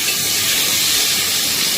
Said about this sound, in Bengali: এবার আমরা ওলটাকে ফ্রাই করবো